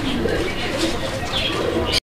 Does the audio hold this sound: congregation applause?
no